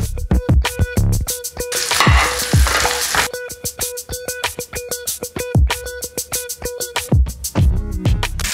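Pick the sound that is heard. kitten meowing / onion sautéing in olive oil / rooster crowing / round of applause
onion sautéing in olive oil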